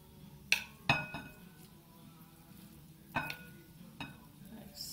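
A cold, drained butternut squash arancini mixture being stirred in a bowl, with a few sharp clinks of a utensil against the side amid soft, sticky mixing sounds.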